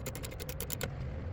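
A ratchet wrench backs a bolt out of a car door panel during a lock actuator replacement, giving a quick, close run of about ten crisp clicks that then stops.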